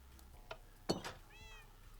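Cats meow in a quick pair of short, close calls with a faint chirp after them, set against a quiet background in a Minecraft game.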